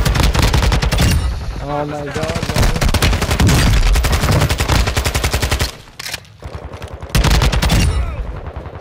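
Gunfire in the Call of Duty Warzone 2 video game: loud rapid automatic bursts repeating across the clip, with brief pauses and players talking over the shots.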